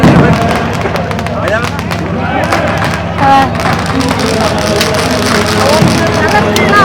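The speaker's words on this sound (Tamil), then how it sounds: "இந்த வெடி சவுண்ட் பயங்கரமா இருக்கு" Diwali firecrackers in Africa bang and crackle repeatedly in the distance and nearby, sharp bursts scattered throughout, while people talk over them.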